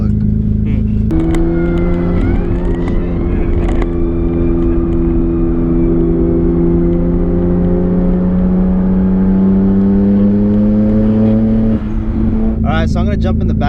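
A 600 hp Nissan GTR R32 engine holds a loud, steady drone with a rising whine, the pitch climbing slowly through a long pull before cutting off near the end, then a brief burst of other noise.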